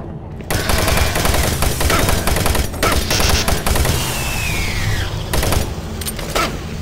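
Rapid gunfire from a shotgun-wielding enemy in the video game Doom 3, loud and dense bursts filling the scene, with a few brief gaps and game effects mixed in.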